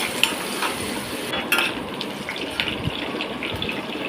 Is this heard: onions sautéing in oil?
yes